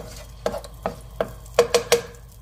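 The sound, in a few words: stirring egg in hot oil in a pan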